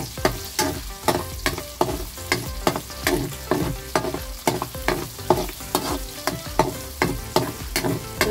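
Onions sautéing in a pan for spaghetti sauce, a steady sizzle broken by regular clattering strokes of a utensil stirring, close and fairly quiet.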